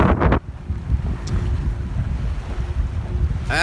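Wind buffets a Catalina 22 sailboat out on open water off Florida, a loud, steady rumble against the microphone with the wash of waves beneath it.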